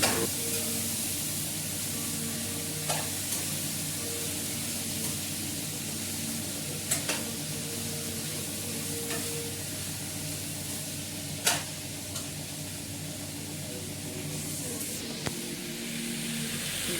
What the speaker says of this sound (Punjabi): ਤੜਕਾ ਆਪਣਾ ਲੱਗ ਗਿਆ ਤੇ ਆਪਾਂ ਸਬਜ਼ੀ ਪਾਤੀ ਵਿੱਚ